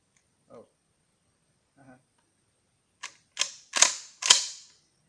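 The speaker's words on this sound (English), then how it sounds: "Let's see what the buckshot does." Several sharp, loud shotgun blasts of buckshot fired at an HP laptop ring out in quick succession near the end, following two faint knocks earlier, with no talking.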